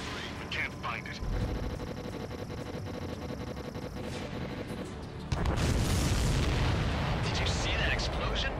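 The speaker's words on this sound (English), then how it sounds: "Did you see that explosion? Looks like that's one of them down." In the Ace Combat 7 flight combat game, a supply ship is shot down and explodes: a sudden loud blast breaks in midway and rolls on as a heavy rumble over continuous aircraft roar.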